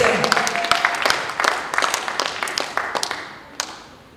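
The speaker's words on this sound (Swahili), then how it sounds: "Sipiga makofi kama unaelewa ninachokisema." A church congregation at a women's conference claps hands in scattered, uneven bursts, sharp individual claps rising and falling over a few seconds, with voices faintly underneath.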